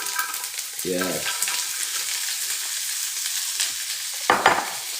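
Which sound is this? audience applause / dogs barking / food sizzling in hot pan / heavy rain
food sizzling in hot pan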